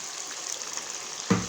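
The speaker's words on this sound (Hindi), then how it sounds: "अब मैं डालूंगी इसमें ये 2 प्याजों का पेस्ट।" Onion paste from two onions hits hot fat in a chicken karahi, giving a steady loud hiss that swells into a sudden heavier sizzle and splutter near the end.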